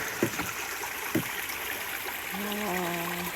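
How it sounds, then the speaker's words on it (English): A creek beside a hiking trail at Colonel Denning State Park in Pennsylvania flows with a soft, steady trickle and burble, joined by a couple of brief nearby knocks and a faint high tone near the end. "Love the sound of a creek."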